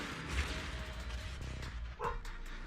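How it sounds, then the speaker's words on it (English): A dog barks indoors in the background, a few short sharp barks that come partway through and near the end, heard over a constant hum of room and game sound. "I heard my dog bark"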